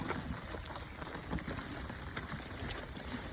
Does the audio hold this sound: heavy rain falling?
yes